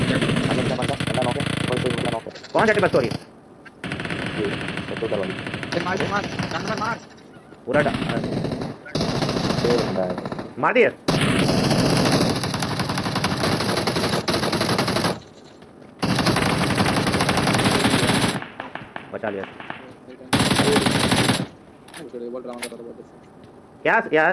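Automatic gunfire rattles in the PUBG Mobile battle royale game, long loud bursts broken by brief silences, while a player talks over the shooting.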